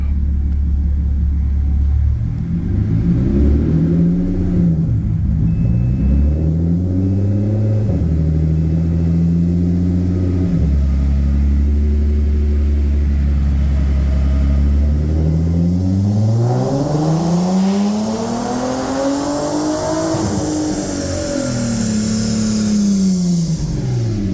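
An Audi TT accelerates hard in manual mode, its engine roaring loud and close through rising revs with several gear changes, each followed by a climbing pitch, and there is no talk.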